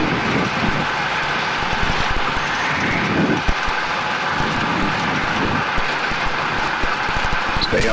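A Cessna 172B engine drones steadily through a landing, loud and close from inside the cabin, with rushing wind and airframe rumble but no talking.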